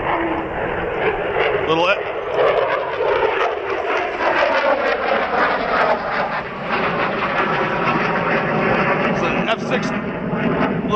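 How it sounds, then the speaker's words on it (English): A small F-16 fighter jet from Truax Field's fighter wing passes overhead above Cherokee Marsh, a broad continuous roar that swells and lingers under steady conversation from people on the water. "little F-16 out of Truax field there, the fighter wing"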